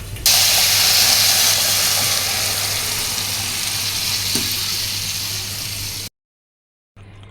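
Chopped, strained tomatoes hit hot onions in a pan for Egyptian koshari, giving a loud, close, steady sizzling hiss for about six seconds before a short silence, then the frying resumes more quietly.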